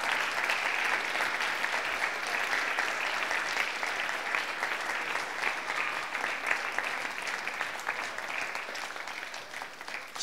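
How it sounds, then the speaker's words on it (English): Sustained applause from a fashion show audience fills the whole stretch, a dense, steady wash of clapping with no talk over it. "Please, another round of applause."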